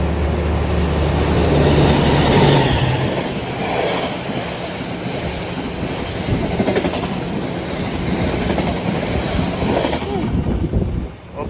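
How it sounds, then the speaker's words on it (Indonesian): The Wijaya Kusuma passenger train departs and rumbles past nearby in the rain, a loud continuous roar with rattling wheel noise, fading slightly toward the end. "Oke, kereta api Wijaya Kusuma sudah lepas ya kan."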